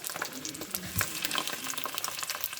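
Sausages brown in a pan, giving a steady, fairly soft close sizzle with small crackles and a light utensil knock.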